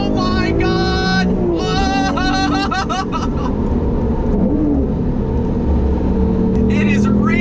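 A Lamborghini Reventon V12 accelerates hard in a straight line, its engine rising loudly in stepped pitch sweeps through gear changes, close and continuous beneath excited exclamations from people in the car.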